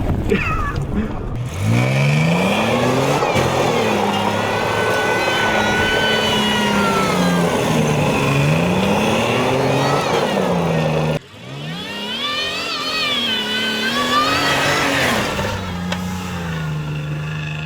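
A 1996 Ford F-350 with a 351W V8 engine revving hard at full throttle, a loud sustained engine drone with rising and falling pitch sweeps, a brief drop near the middle before climbing again, heard from inside the cab.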